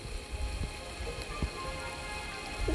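Steady rain pattering on surfaces inside the Roblox game Royale High, a soft continuous hiss with occasional faint drop taps, fairly quiet and with no voices.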